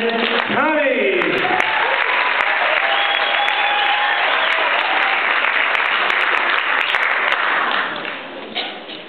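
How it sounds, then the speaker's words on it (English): A theater audience gives loud, sustained applause for a magician's entrance, a thick wash of clapping lasting about eight seconds before fading, with a brief voice near the start. "ladies and gentlemen, round of applause for my friend, Tommy."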